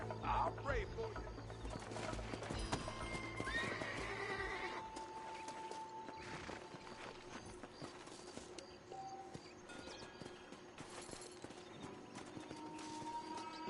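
Hoofbeats and a whinny from a horse in Red Dead Redemption sound at moderate level, strongest early and fading into quieter game ambience with faint bird calls and occasional talk.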